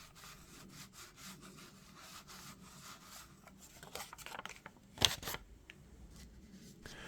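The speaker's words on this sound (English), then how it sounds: "I would just rub over the United States of America printed on this bill" Counterfeit bill detector pen or tool rubbed back and forth over the printed lettering of a US $10 bill, a quiet close scratchy rubbing with a brief sharper scrape near the end, no talk.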